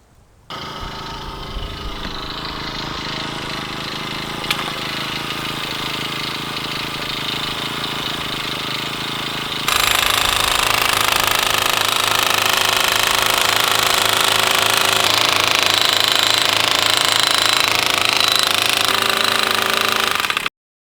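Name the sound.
gas-powered post pounder driving T-posts into ground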